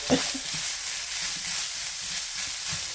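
Chopped green bell pepper fries in a pan with a steady, even sizzle, close and constant, with a faint stir near the start.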